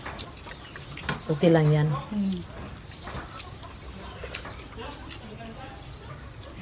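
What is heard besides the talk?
chickens clucking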